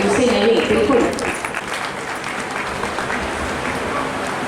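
Audience at a women's award ceremony applauding, a dense wash of clapping that is loudest for the first second then continues more softly under a voice speaking.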